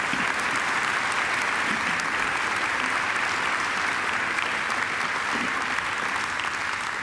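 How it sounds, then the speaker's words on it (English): An audience at a Macquarie University graduation ceremony claps steadily, a thick, unbroken roar of applause at constant loudness from start to finish. "I think Angela deserves another great round of applause."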